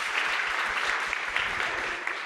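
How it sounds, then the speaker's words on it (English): A conference audience at a primary care partnership event gives a round of applause, steady dense clapping from a sizeable crowd lasting the full stretch. "round of applause for that, for sure"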